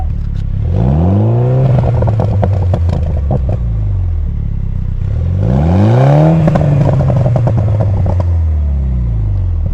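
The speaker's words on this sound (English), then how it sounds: "some clips of the full 3-inch exhaust system from Scorpion along with the catted Scorpion high flow downpipe so you can hear what that sounds like" Mini Cooper with a full Scorpion 3-inch exhaust system and catted Scorpion high-flow downpipe, revving twice in loud rising-and-falling sweeps with a raspy drone and clattering edge, close by with no talk.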